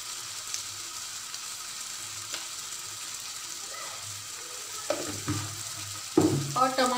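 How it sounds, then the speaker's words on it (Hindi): Spices and tomato masala frying in a pan: a quiet, steady sizzle with occasional spoon scrapes and stirring clatters that grow louder toward the end. "और टमाटर ये मसाले को अच्छी तरीके से फ्राई कर लेंगे"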